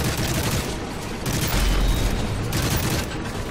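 Call of Duty: Modern Warfare 3 combat gunfire, dense bursts of rapid shots and booms in heavy surges, loud and continuous throughout.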